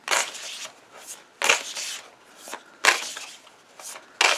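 Tarot cards being shuffled up close, with loud riffling bursts repeating roughly every one to one and a half seconds, each a crisp papery flutter with quieter pauses between.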